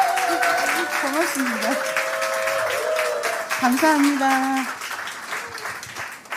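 Audience applause at a church worship concert forms a steady patter of clapping beneath someone speaking over it, with the clapping tapering off toward the end.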